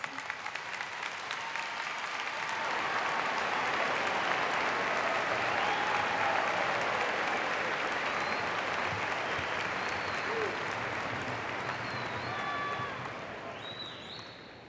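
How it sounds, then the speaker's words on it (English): Long, steady applause from a large crowd at a high school graduation ceremony, building quickly and holding for over ten seconds before tapering off. "Please give them a round of applause."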